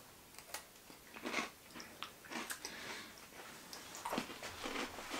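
Small crunchy strawberry-flavoured biscuit being bitten and chewed close up, giving a series of quiet, irregular crunches over several seconds against a faint background hiss.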